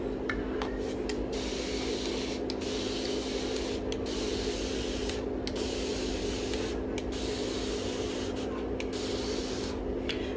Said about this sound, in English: I'm spraying downward.